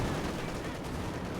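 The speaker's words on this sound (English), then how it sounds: "the tank commander artillery gets the wipe there" Tank commander artillery strike in Company of Heroes 2: a dense, continuous wall of low rumbling explosions and crackling impacts, loud and sustained throughout this short moment.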